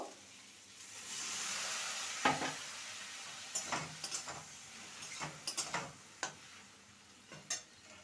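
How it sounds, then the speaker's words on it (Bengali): Boiled potato pieces stir-fried with spices in oil in a pan, a soft sizzle beneath sharp clinks and scrapes of a metal spoon against the pan, irregular and close. "এবার সেদ্ধ করা আলুর টুকরোগুলো দিয়ে দেবো ভালো করে মশলার সাথে কষিয়ে নেব"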